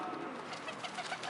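Pigeons cooing at a marina in Canary Wharf, a soft continuous murmur of low calls close by, steady throughout without any talk.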